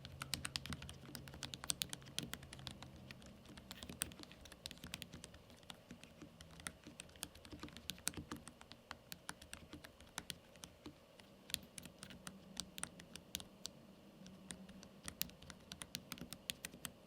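Steady, fast typing on an ASUS ROG Falchion RX Low Profile wireless keyboard, with soft, close key clicks pattering continuously and evenly.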